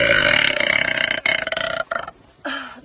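A young woman lets out a loud, long burp that rumbles on for about two seconds, then trails into a shorter, quieter belch after a brief pause, with no talking.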